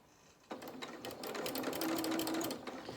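A sewing machine starts abruptly and runs close and steady, top stitching a seam on small dungarees, its needle rattle speeding up slightly before easing off.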